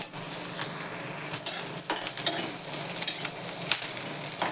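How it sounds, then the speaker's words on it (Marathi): Green chillies roasting in a pan for a chilli thecha, a steady dry sizzle with repeated scraping and clinking of a spatula against the metal, close and fairly loud, no voices. "चांगलं छान डाग पडेपर्यंत भाजून घ्यायचं."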